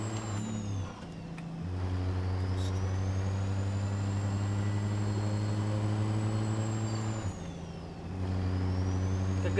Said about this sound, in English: It's a good turbo spool up. Even after you let your foot off, you still got good spool up.